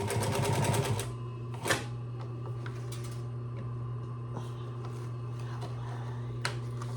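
A Singer 112W125 industrial sewing machine stitches through about eight thick layers, with a fast mechanical rattle for the first second, then quieter knocks and clicks over a steady low motor hum.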